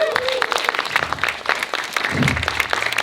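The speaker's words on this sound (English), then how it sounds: "Big round of applause to Space Florida." A crowd claps steadily in sustained applause at the 2016 Indie Galactic Space Jam, dense and fairly loud throughout, with a few voices mixed in.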